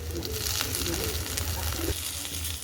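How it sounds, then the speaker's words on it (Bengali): Chopped onion and green chilli fry in hot oil in a wok, giving a loud, constant sizzling hiss with a few brief stirring scrapes and no clear speech. "কড়াটা গরম হয়েছে, দিয়ে দেবো তেল, পেঁয়াজ কুচি দিয়ে দেবো, লঙ্কা দিয়ে দেবো"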